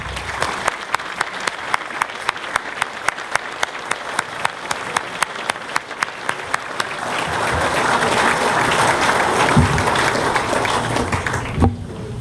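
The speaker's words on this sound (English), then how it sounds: "Let's give them a round of applause." Banquet audience applauding award winners, a steady roll of many hands clapping that swells into a broad, dense wash of applause and crowd noise toward the end.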